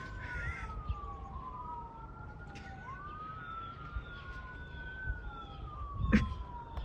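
A wailing ambulance siren sweeps up and down at a distance over steady outdoor background noise, with a brief louder thump near the end.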